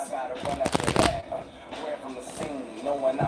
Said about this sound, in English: I am shuffling cards.